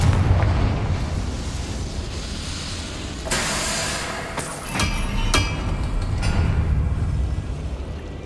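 Fiery Confringo spell blast in Hogwarts Legacy, a deep rumbling explosion with rolling booms and several sharp crackling bursts in the middle, loud and layered over a continuous low roar.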